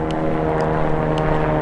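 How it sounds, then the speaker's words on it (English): Big helicopter flying overhead, a loud, steady droning rotor and engine hum that fills the whole moment without letting up. "Big helicopter going overhead."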